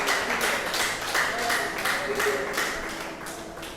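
Congregation applauding the Lord in a church, a steady wash of many hands clapping with rhythmic pulses of emphasis, fairly loud and continuous, with voices mingled in.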